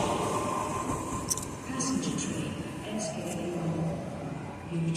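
A train pulls into a platform at Kraków Główny station with a low steady rumble and faint squeals of wheels and brakes, while a public-address announcement plays over the platform.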